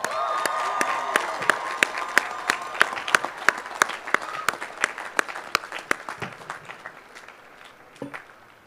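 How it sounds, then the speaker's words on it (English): Commencement audience applauding at a 2010 University of Oregon graduation ceremony, with sharp individual claps standing out over a dense wash of clapping that thins out and fades toward the end. "Let's give these folks another round of applause."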